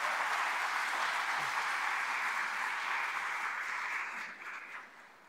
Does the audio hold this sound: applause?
yes